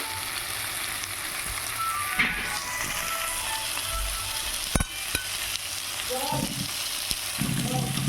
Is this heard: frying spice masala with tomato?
yes